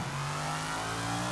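Car engine in the Sleeping Dogs video game hums steadily at mid pitch, a continuous, fairly loud drone with stable harmonics while the car drives.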